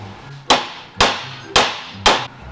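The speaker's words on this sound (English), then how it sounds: "Let's grab us a hammer and we'll make this move." Four sharp metallic hammer strikes spaced about half a second apart, each ringing briefly before the next, close and loud with no talking.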